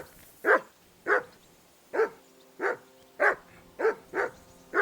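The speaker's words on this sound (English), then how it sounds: "That barking was a pain in the ass." In Kingdom Come Deliverance 2, a dog barks steadily, eight sharp, clear barks spaced roughly half a second apart, close by with no speech.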